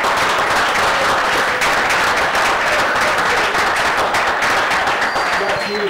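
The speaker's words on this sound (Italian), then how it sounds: "Questo è un applauso che nasce spontaneo, parte spontaneo" Spontaneous applause from a studio audience during an Italian sports talk show, a dense steady wash of clapping filling the whole stretch at a loud, even level.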